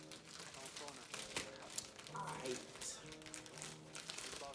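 Cardboard sneaker box packaging is torn open by hand without scissors, with loud, close crinkling and ripping running throughout under a voice.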